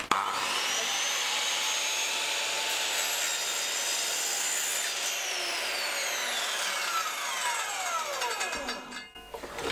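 A miter saw in a workshop runs with a loud, continuous high whine for several seconds, then winds down as the blade spins to a stop.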